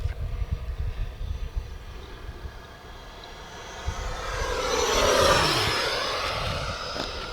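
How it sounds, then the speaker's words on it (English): An E-flite F-16 Falcon 80mm electric ducted fan RC jet makes a loud, close pass. Its airy, turbine-like hiss rises to a peak and then fades as it flies off, with wind noise on the microphone and no talking. "It just sounds like a real jet turbine. It does not sound like an EDF."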